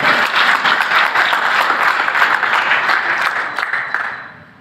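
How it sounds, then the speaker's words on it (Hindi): Loud, sustained applause from an audience honoring blood donors, many hands clapping in a thick steady wash that tapers off and fades near the end. "तालियों में कंजूसी नहीं करें"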